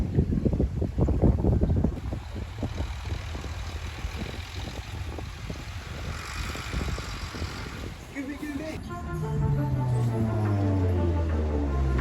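Service boats on the water near Samal Island, a low steady motor drone under heavy wind buffeting, with someone talking over it and a rising engine tone toward the end.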